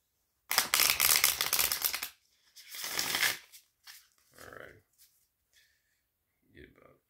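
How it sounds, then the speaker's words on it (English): Tarot cards are shuffled by hand in close, crisp riffling bursts, a long burst followed by a shorter one, then scattered softer card taps and slides trailing off into quiet. "Get about one or two more shuffles."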